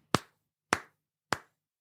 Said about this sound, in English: You get a slow clap from me.